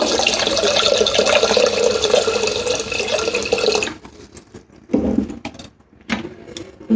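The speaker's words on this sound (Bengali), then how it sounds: "পাঁচশো গ্রামই জল দিয়ে দেব" Water is poured into 500 grams of yogurt for gondhoraj ghol, a steady close gush for about four seconds that then stops, followed by a few brief splashes and clinks.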